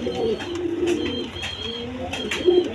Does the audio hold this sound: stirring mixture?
no